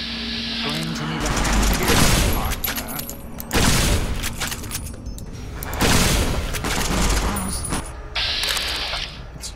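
Rifle fire in the video game Fallout New Vegas, a hollow rifle loosed in several loud booming shots with mechanical action between them, dense and close over game effects, with some speech present.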